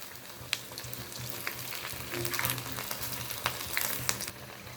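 Cauliflower lollipops deep fry in hot oil, a steady close crackling sizzle with sharp pops scattered throughout and no voices.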